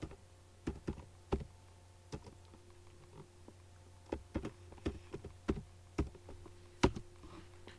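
Scattered keystrokes on a computer keyboard while entering a search in an Excel spreadsheet, quiet, close clicks in irregular small bursts with pauses between.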